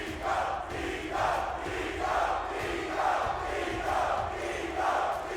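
A large arena crowd at the Halo esports grand finals in Salt Lake City roars and cheers in rising swells, loud and sustained, with a few brief dips between waves.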